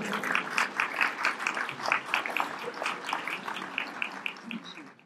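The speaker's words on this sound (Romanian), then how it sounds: "Aplauze vă rugăm!" An audience at a Christmas carol concert applauds a youth choir with steady, fairly dense clapping from a modest crowd that continues evenly and then fades at the end.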